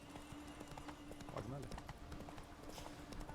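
Horse hooves clip-clop steadily from a galloping horse in The Witcher 3 video game, a rapid rhythmic patter at moderate level running under a man's speech.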